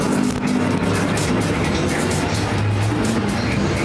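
Figure 8 race cars roar off at the start of the season's last figure 8 race at Perris Auto Speedway, a loud, dense, unbroken engine rumble across the whole stretch.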